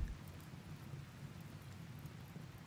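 Steady rain in the RimWorld video game, a constant dense wash with low rumbling underneath like distant thunder, holding even throughout with no talking.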